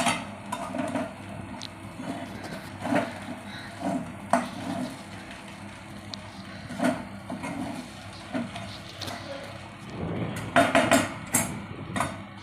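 Dried kasuri methi and spices stirred together in a cooking pan for a vegetable bhaji, heard as repeated scraping and tapping knocks of a spoon against the pan, steady and close throughout with no voices.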